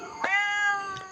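A cat at a Thai temple, Wat Pong Chai, gives one long, close, steady meow lasting about a second, with a faint second call starting as it fades; no voices.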